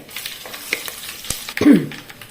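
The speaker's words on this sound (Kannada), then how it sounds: "ಇಲ್ಲಿ ಸಾಸಿವೆ ಚಟಪಟ ಅಂತ ಹೇಳ್ತಾ ಉಂಟು" Mustard seeds splutter and crushed garlic sizzles in hot oil, a light crackling bed with scattered sharp pops and a brief louder hiss and scrape near the end, close and without speech.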